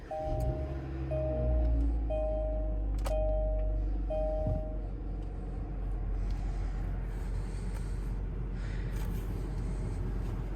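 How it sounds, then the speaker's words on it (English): A 2021 Kia Forte starts up: a series of evenly spaced warning chimes, then a steady low engine idle that runs on close by with no talking. "Hear the car kind of run a little bit."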